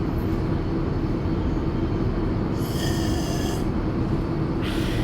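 A TGV high-speed train running in Transport Fever 2, a steady, dense rumble and roar that holds constant throughout, with faint high tonal whines rising briefly over it.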